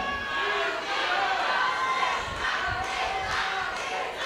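A studio audience at a televised music contest cheers and shouts for a favourite contestant, a loud sustained roar of mixed voices with whoops rising and falling throughout.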